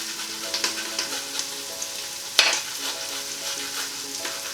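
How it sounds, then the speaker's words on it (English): Garlic grated directly into a hot pan as it sizzles for a sweet potato, chickpea and spinach curry: a steady, moderately loud frying hiss with a few soft scraping strokes and one brief sharp clatter midway, no voices. "I'm literally just going to grate all of this straight in to the pan"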